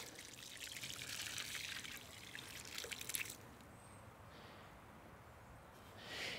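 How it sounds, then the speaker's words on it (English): Water is poured onto a newly planted New Dawn rose beside a garden arch, a soft trickling splash for about three seconds before it tapers to a quiet stream and faint dribbles. "Give your rose a nice soak."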